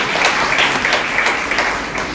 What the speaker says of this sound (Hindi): मैं प्रभु के लिए जोर से ताली बजाइए